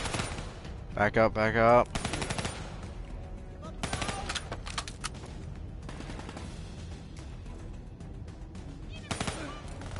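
Video game gunfire from the Call of Duty Black Ops 3 campaign comes in quick bursts of rapid shots, loud and close, mixed with battlefield noise and shouted voices.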